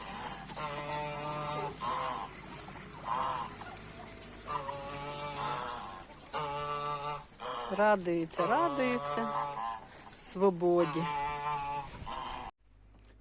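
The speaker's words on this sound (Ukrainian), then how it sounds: "Ну що ж, все як завжди, випускаємо кури" Chickens being let out of their coop cluck and squawk in a lively flurry, close by, with a person speaking over the birds.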